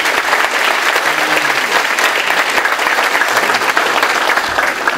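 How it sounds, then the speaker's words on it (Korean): Dense, sustained applause from a large audience at a university career concert fills the whole stretch, loud and steady with no talk over it. "박수 한번 치고 갈까요?"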